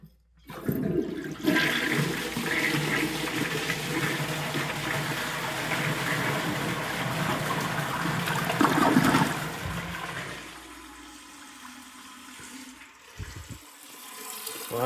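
A yellow 1979 Norris toilet with its original flush valve flushes with a loud, steady rush of water for about eight seconds, then the Fluidmaster 400 fill valve refills the tank with quieter gurgling and trickling.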